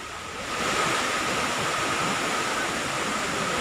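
Fast, swollen floodwater of the Bhairavi and Damodar rivers near a temple rushes past in a dense, steady roar with no talk over it.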